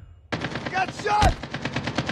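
Rapid automatic gunfire from the video game Call of Duty Mobile rattles in a quick burst of repeated shots, loud and close, following a single sharp report.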